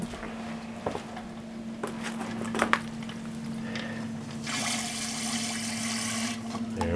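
A sump pump hums steadily after being plugged in, with water sloshing and gurgling over it and a louder rushing surge of water near the end.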